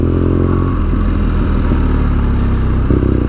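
A 2017 BMW R nineT Scrambler's engine while riding at low speed gives a loud, steady, throbbing drone with a slight lift in revs near the end; no one speaks.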